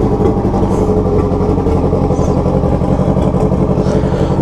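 A turbocharged Yamaha XJ6 motorcycle runs close by with an aftermarket exhaust, its engine holding a loud, steady low throb and clattering rumble throughout, with no voices.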